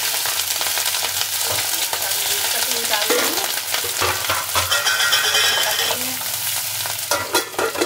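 Green chillies and mustard seeds sizzle and crackle steadily in hot oil in a home kitchen pan, a loud continuous fry with stirring scrapes and no talking.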